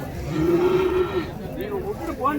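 A young native-breed bull calf lows at a busy cattle market, one drawn-out moo followed by shorter rising calls, close and clear over steady crowd noise and voices.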